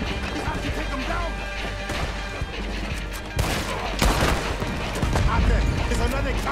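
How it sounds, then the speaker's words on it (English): Dense gunfire from a shooter in a tower in Red Dead Redemption 2 crackles in rapid bursts and heavy cracks, close and loud, with voices talking over the shooting. "He's shooting. We have to take him down."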